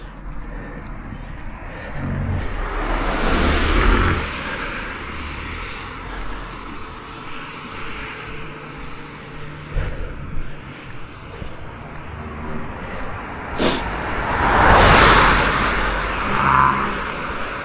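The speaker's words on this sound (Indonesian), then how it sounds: "Ih, ada mobil lewat lagi nih." On a deserted early-morning street in Japan, passing cars swell and fade, one rushing by early and another louder one near the end, with a quieter stretch of low hum and brief voices between.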